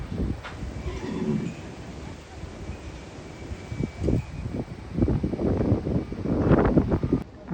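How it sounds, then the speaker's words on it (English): Strong wind gusts blow through a horse barn, with blustery microphone buffeting and rustling swelling in bursts, loudest toward the end, while a horse shifts and moves close by. "it's just too windy"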